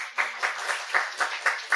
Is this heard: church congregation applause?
yes